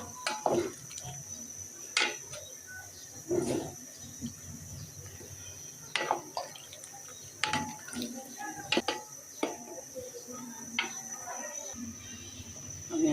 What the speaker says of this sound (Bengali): বলক আসছে আস্তে আস্তে আমি এগুলোকে নেড়ে ছেড়ে দিই